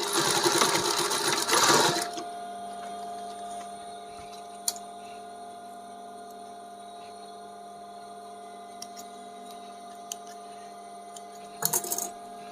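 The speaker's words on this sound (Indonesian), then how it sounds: "Kita jahit lagi yang sisi satunya, yang bagian segitiga." Sewing machine stitching the triangular edge of a men's shirt pocket, a brief burst of rapid whirring stitches at the start and again near the end, with a quiet hum and faint clicks between.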